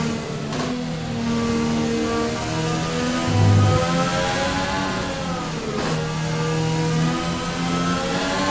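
Rain falls steadily throughout a wet race at Suzuka in F1 2020, mixed with a droning, revving racing engine that holds close and loud for the whole stretch.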